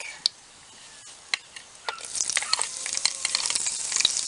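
Garlic sautéing in a pan for pancit de Cebu bami, starting with a few scattered pops before a dense, close sizzle and crackle swells up and holds.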